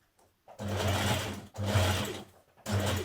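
A sewing machine stitches the seam of a Simplicity 2917 dress in three loud, steady runs, each about a second long, with short pauses between them and no voices.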